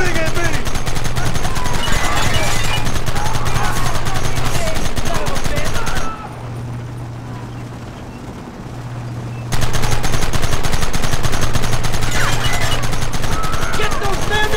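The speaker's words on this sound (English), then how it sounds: "Stop shooting at me!" Rapid, dense gunfire crackles through a shootout in Red Dead Redemption on PS5, loud and continuous, then drops to a quieter stretch for a few seconds before the heavy shooting resumes.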